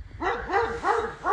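Several dogs at a shelter bark in quick succession, about four close, loud, rhythmic barks with a yelping edge, with no talk.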